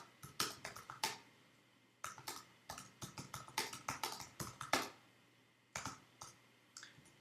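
A computer keyboard is typed on in irregular bursts of light, sharp keystroke clicks with short pauses, close and fairly quiet, with no talking.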